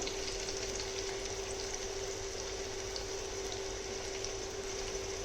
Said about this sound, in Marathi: तेल गरम झाला की याच्यामध्ये कांदा घालायचा आहे, बारीक चिरून घेतलेला आहे हा कांदा घालायचा आहे इथे पूर्ण